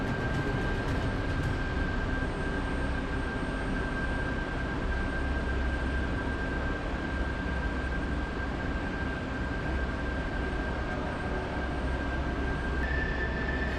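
An F-16 jet turbine spools up in the DCS flight game, a steady, loud, broadband roar with a constant high whine running through it, unbroken and without voices.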